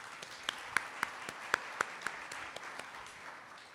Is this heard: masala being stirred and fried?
no